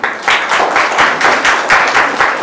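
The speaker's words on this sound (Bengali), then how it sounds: "জোরে হাততালি" Loud, sustained applause from an audience at an award ceremony, a dense wash of many hands clapping in surging waves that keeps going through the whole stretch.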